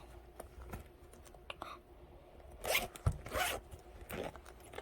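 A zipper binder is unzipped in two quick pulls after some quiet handling and rustling, close and fairly soft with no talk over it.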